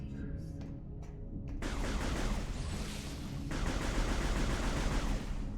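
Dense, continuous gunfire from the video game Metroid Prime 3: Corruption, rapid shots layered over a rumbling game soundscape, loud and unbroken throughout.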